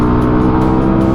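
A QJ Motor SRV 400 motorcycle engine runs at full throttle, producing a loud, steady, deep rumbling drone heard from close by throughout the clip.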